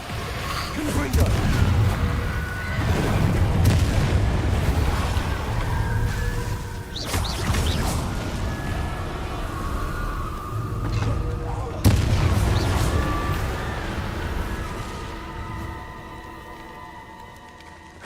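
Confringo explosive spell blasts in Hogwarts Legacy, several booming bursts spread through a loud, busy combat mix with rumbling low end and a sharp crack near the middle.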